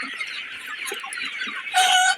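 Sonali chickens in a crowded poultry shed with bamboo bars, a dense chorus of nearby clucking and squawks that swells louder near the end, no talk.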